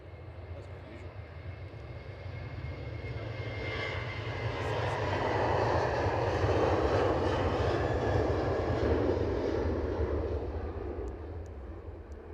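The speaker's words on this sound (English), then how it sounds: "Ryanair coming in from Brussels." A Ryanair airliner arriving from Brussels at Edinburgh airport gives a steady engine roar that swells to its loudest midway and then eases slightly, continuous throughout, with faint talk underneath.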